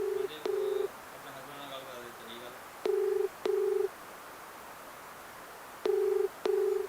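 An outgoing telephone call rings on the line: paired electronic ringback bursts repeat about every three seconds, clean and steady, with faint voices murmuring near the start.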